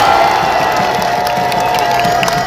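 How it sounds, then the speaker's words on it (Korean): A large outdoor crowd at a political campaign rally in a city square cheers and applauds loudly and continuously, with shouts and whoops over steady clapping. "그럼 박수 크게 한번 보내주세요"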